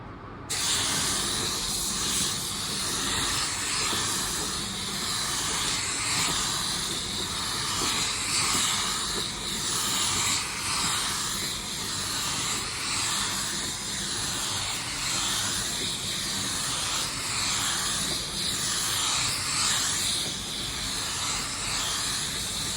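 Steady, continuous hiss of a spray gun laying down a wet coat of automotive clear coat, loud and close, running unbroken for over twenty seconds with slight pulsing as the gun passes.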